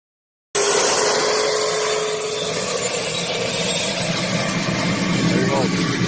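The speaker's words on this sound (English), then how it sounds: "(1996) Dodge van with helicopter engine?" A 1996 Dodge van fitted with a helicopter turbine engine starts up abruptly, then holds a loud, steady, whining roar with a high-pitched hiss for several seconds.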